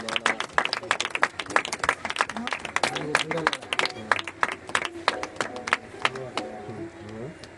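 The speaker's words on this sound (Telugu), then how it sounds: "మరి చప్పట్లతో ఫాదర్ ఆహ్వానిస్తున్నాం" A church congregation claps to welcome a priest, a dense run of many hands applauding steadily and fairly close for several seconds, with a voice speaking over the clapping.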